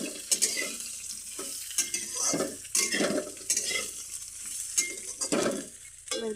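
Vegetables, including potatoes, are stirred in a sizzling frying pan, with repeated scraping and tossing strokes against the metal over a constant fry.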